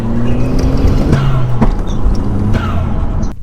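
An Audi car engine accelerating hard while keeping pace with a lighter car: a loud, continuous engine drone close by, with pitch stepping up and down between gear changes and no talking.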